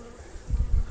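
Honeybees buzz briefly around a hive in spring, a low, faint hum that swells near the end of the short moment.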